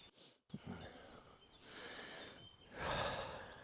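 A person sniffs several times at close range while suffering from a cold after travel, with short breathy intakes separated by quiet gaps and no talk.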